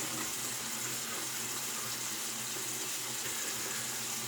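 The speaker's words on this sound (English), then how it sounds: "So I have my tap warmed up, so I'm going to wet the face" Warm water runs from a bathroom tap before shaving, a steady soft splashing stream with no voice over it.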